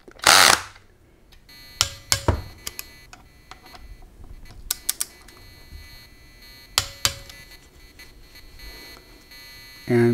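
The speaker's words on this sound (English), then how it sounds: "Now I usually torque these down to 12 foot-pounds." Bolts on a Dana 300 transfer case tightened with a torque wrench, heard as sharp metallic clicks and clanks scattered across quiet workshop air, with a louder burst of rattling at the start and end.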